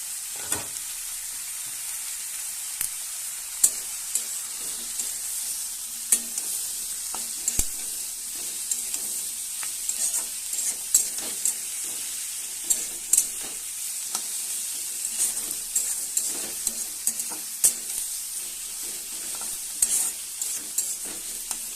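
Thinly sliced potatoes fry gently with onions and spices in a pan, a steady, quiet high sizzle punctuated by frequent brief clicks and scrapes of stirring.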